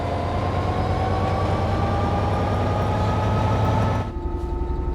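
A class 710 electric train passes in the Train Sim World 5 game on the West Coast Main Line, a steady loud rolling rumble with a continuous hum that cuts off abruptly near the end.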